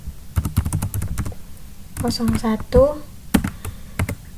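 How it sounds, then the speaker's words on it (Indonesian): Keys tapped on a computer keyboard to enter a database command, bursts of clicky keystrokes close to the mic, with a person talking over part of the typing. "setelah itu kita ketik use rumah sakit"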